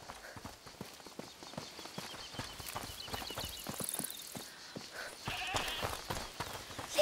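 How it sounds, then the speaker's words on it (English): A goat bleats in A Plague Tale: Requiem, set among rhythmic hoof-like clip-clop steps and scattered game ambience, with a brighter call rising near the end. "Is that the goat he talked about?"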